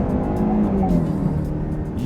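A Jaguar E-Pace SUV accelerating hard up an on-ramp, its engine droning steadily and close with a rising tone under continuous road and tire noise.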